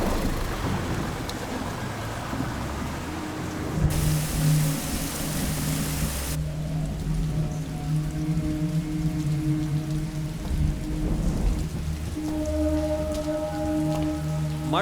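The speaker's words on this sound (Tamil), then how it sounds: "மழை நிக்கிற மாதிரியே தெரியல." Heavy rain pours steadily in a continuous dense hiss, with faint low rumbles beneath and a steady low hum rising over the downpour near the end.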